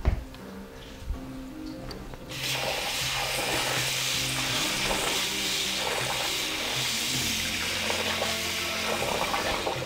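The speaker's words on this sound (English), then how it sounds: "now I'm going to wash my rice" Tap water runs steadily while rice is being washed for a Persian fava bean dish, a loud continuous hiss that starts abruptly about two seconds in after a quiet kitchen moment and carries on to the end.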